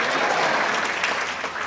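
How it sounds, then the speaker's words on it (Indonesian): A church congregation claps together in a steady, dense wash of applause, loud and continuous for a couple of seconds with no voices standing out. "Kita berikan tepuk tangan yang lebih baik bagi Tuhan."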